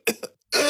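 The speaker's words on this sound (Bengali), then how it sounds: "কাশতে কাশতে বুকে পেতে শুরু হয়ে গেল," Close, harsh coughing from someone who has just smoked cannabis: two quick coughs followed by a longer, rougher rasping burst, with no speech.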